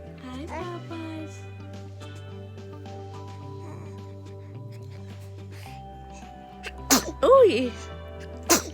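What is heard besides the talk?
sneeze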